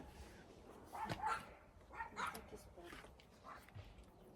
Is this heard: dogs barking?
yes